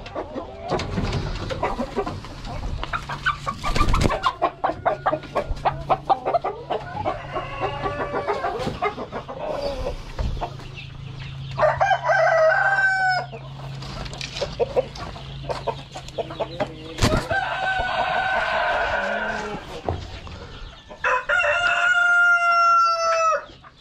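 Dekalb Brown hens clucking repeatedly, with several rooster-like crowing calls and a low steady hum underneath; the birds sound close and fairly loud, and no one speaks.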